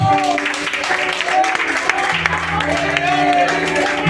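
A church congregation claps and cheers in a dense, continuous wash of applause while a voice speaks and sung or sustained tones run underneath.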